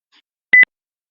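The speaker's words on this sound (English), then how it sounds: "Rose, someone wants to join the call." A video call join-request notification chirps once as a short, loud double beep, clean and close with nothing else around it.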